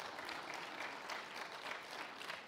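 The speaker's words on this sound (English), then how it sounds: "would you give him a clap, because he deserves it." A church congregation applauds at a Baptism Sunday service, steady, dense clapping that holds at an even level throughout, fairly soft and distant, with no voices over it.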